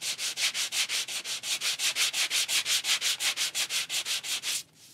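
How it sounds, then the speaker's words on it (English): A sanding block rubs back and forth over an embossed card, about two dozen even, steady strokes close by and alone, stopping just before the end. "my sanding block"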